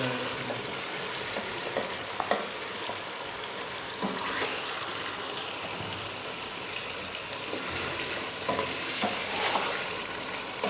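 Chicken pieces stirred into softened tomatoes frying in a pot for biryani, a steady moderate sizzle with intermittent scraping and stirring sounds, no talk.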